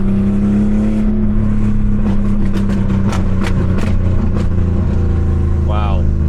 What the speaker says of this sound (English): Wow, that backfire is just insane. If you feather the gas after you let off, the pops and bangs are really loud.